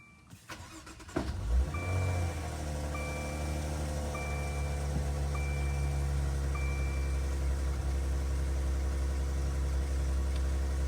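A Maserati Ghibli with a newly replaced H8/49 AGM battery cranks briefly and fires up, then settles into a steady, close, loud idle with a low rumble, while a soft chime repeats in the background.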